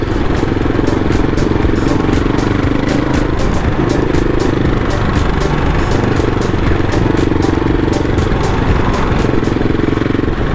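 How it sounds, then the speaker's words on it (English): A CCM Tracker 600 single-cylinder motorcycle runs steadily and loudly, its engine note rising and falling slightly as it is ridden, with a dense continuous roar throughout. "It does everything you could expect from a 600 single cylinder motorcycle."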